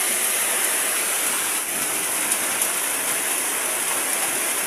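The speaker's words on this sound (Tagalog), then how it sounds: "Ang hangin at ulan, mas lalong lumalakas." Heavy storm rain and strong wind, heard from inside a flooded house: a dense, unbroken roar of falling water and rushing air, steady and loud throughout.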